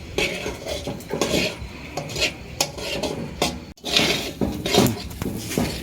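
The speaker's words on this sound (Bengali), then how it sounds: "ডালটা মোটামুটি এক মিনিট ভালো করে নেড়ে চেড়ে নিয়েছি মশলার সাথে" Dal being stirred with spices in a metal cooking pot for khichuri at an outdoor picnic, repeated close scraping and clanking of a ladle against the pot in an uneven rhythm, with a brief pause midway.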